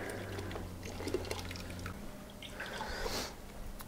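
Yeast poured into a bucket of stout being home-brewed, giving a soft wet splash and trickle that swells briefly near the end over a low steady background hum.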